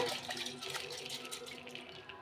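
Water pours steadily into a wet grinder holding soaked millet and urad dal for dosa batter, a continuous close splashing rush that runs without a break and stops abruptly at the end.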